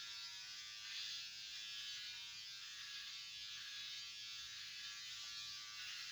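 Electric razor buzzing steadily during leg shaving, with a constant high hum held close and fairly quiet for the whole stretch and no voices.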